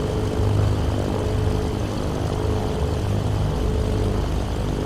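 Twin propeller engines of a FlySimWare C414AW Chancellor in Microsoft Flight Simulator hum steadily near 1,000 RPM, a constant low drone with tonal harmonics and no voices.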